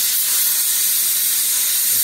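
An HHO torch brazing thick metal pieces gives off a steady, loud, bright hiss with an even roar and no breaks, close up.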